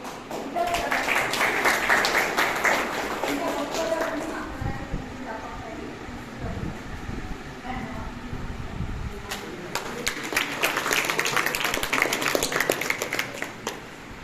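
Audience applause for a guest speaker at an education society event, a dense crackle of clapping from the start, easing in the middle under a voice, then swelling again toward the end.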